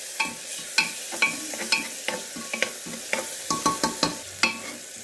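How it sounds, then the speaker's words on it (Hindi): Ginger, garlic and chili paste frying in a pan, stirred with a steady series of sharp scraping clicks over a soft sizzle, close and moderately quiet. "अदरक लहसुन मिर्चा का पेस्ट भून गया है"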